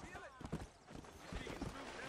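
Horse hooves clip-clopping in the Red Dead Redemption video game, a quick run of soft clopping beats mixed with game sounds under a voice.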